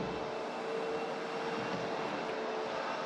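Hyper Grinders Hyper Orbit floor sander running along a wall perimeter with its base floated and wheels lifted, giving a steady, continuous broadband whir with a faint tonal hum throughout.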